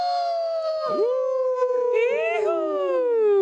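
A person howls like a wolf, imitating the call with a long, sustained wavering voice that rises and slides in pitch, loud and close, with no other sound.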